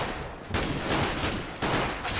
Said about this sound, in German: Schuss von Forest